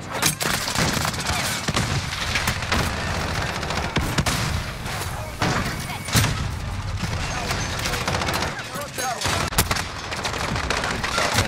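Gunfire rattles nonstop through a Call of Duty match, dense bursts of automatic shots and booms packed tightly together, loud and close, with voices talking over the barrage.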